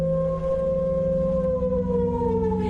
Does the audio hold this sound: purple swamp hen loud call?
no